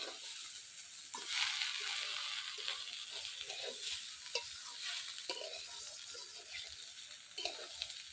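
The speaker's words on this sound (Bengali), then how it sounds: "মটরশুঁটিটা এখন দেবো, চালের সাথে ভাজবো।" Peas and broken rice sizzle steadily in a hot pan for a Bengali vegetable khichuri, with close, repeated scraping and stirring strokes over the constant frying hiss.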